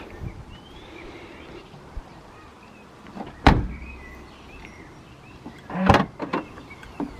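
The tailgate of a BMW 1 Series rises on newly fitted gas struts, giving a soft mechanical whir followed by two sharp thuds or clunks as it moves and latches, against quiet outdoor background noise.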